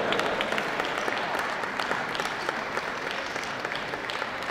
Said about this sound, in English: And a big round of applause to our puppy group judge, Mrs. Jill Pink.